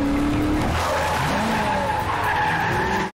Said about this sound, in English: It's not a Bourne movie without a car chase